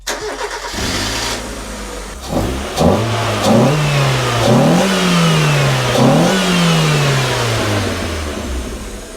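Mazda MX-5 NA with a budget induction kit cranks and fires up, then revs in a few rising and falling blips before settling toward idle, loud and close with a throaty intake note.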